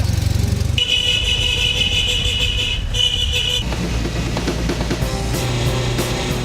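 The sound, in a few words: Citroën 2CV car horn honking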